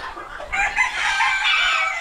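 Chickens on a farm keeping unusual breeds in the Philippines cluck and call, a rooster-like crowing note rising over softer farmyard background, fairly close and continuous for a couple of seconds.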